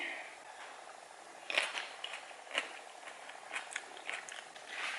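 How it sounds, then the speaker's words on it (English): Close, crisp crunching as someone bites into homemade kimchi, with a few sharp bites standing out over a quiet room background. "let's go try some kimchi"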